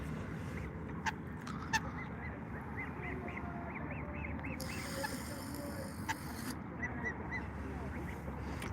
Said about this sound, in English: They're proper farm geese.